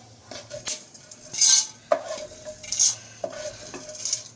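Whole spices for sambar, such as peppercorns and chilies, dry-roast in a pan while a spoon scrapes and stirs them, giving intermittent clinks and rattling scrapes over a faint sizzle.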